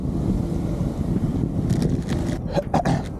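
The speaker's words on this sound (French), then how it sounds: "Oh, le vent." Gusty wind buffets the microphone in a heavy low roar while cycling in Osaka, rising and falling, with some louder rustling bursts near the end.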